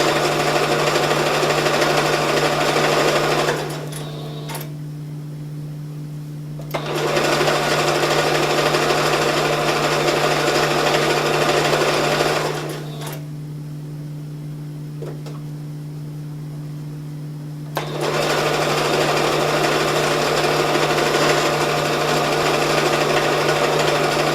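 Sewing machine closing and finishing the edge of a soft travel pillow, running in loud, steady bursts of about four and six seconds separated by brief pauses, close and alone.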